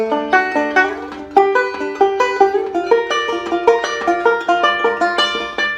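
Bright plucked banjo notes roll along in a quick, steady picking pattern, close and clear, with no voices.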